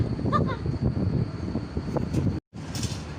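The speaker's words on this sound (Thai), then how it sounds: "คือลมมันแรงมากเลยอ่ะ" Strong wind buffets the microphone on The View Wheel Ferris wheel at the Winterval Christmas festival in Waterford, a steady rumbling roar with a brief dropout near the end and faint voices underneath.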